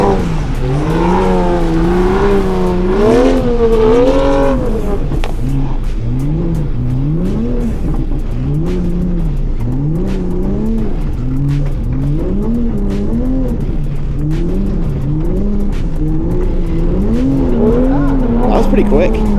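A Toyota Supra thrashed off-road by a racing driver gives a loud, continuous engine roar that repeatedly revs up and down, with tire squeal and rumble throughout and voices talking under the noise.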